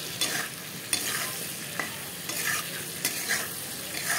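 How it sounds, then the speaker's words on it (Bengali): Potatoes seasoned with salt and turmeric fry and get stirred in a pan, giving a steady close sizzle broken by regular scraping strokes of the spoon across the pan. "এখন আলুগুলোকে লাল করে ভেজে নেব।"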